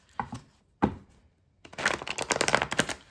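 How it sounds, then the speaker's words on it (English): Tarot card deck being shuffled by hand, a few quick separate riffles followed by a denser burst of crisp card flutters and slaps, close and fairly quiet. "Give a little shuffle real quick."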